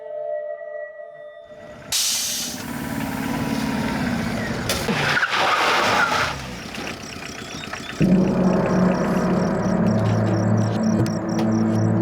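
A goods delivery vehicle with a punctured tyre skids on the road in a crime drama. A loud, hissing, screeching skid runs for several seconds, then gives way to a droning dramatic score.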